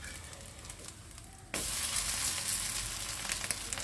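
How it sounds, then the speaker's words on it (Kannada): A dosa frying in coconut oil on a pan, a faint background hiss that suddenly bursts into loud, steady, close sizzling about halfway through. "ಕೊಬ್ಬರಿ ಎಣ್ಣೆ ಹಾಕ್ಕೊಳ್ತೀನಿ ನೋಡಿ"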